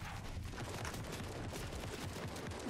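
Rapid bursts of shotgun fire in Fortnite crackle densely and continuously, a distant fusillade of overlapping shots with no talking.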